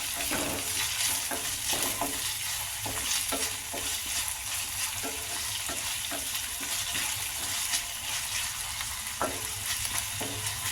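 Salted vegetables are stir-fried in a pan for hotel-style veg fried rice. A constant close sizzle runs throughout, broken by repeated sharp spatula scrapes and knocks as the vegetables are tossed.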